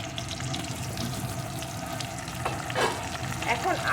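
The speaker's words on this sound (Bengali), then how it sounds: "আলুগুলো সুন্দর করে ভেজে নেব" Pieces of potato fry in a pan with a steady, close sizzle and a little stirring near the end, with no voices.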